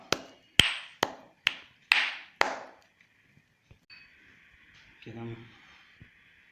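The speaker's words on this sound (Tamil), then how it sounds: "நல்லா தூள் பண்ணியாச்சு பாதாம் பருப்பை" Almonds are pounded into powder. Six sharp, quick blows sound close, followed by a faint scraping and a short low rumble.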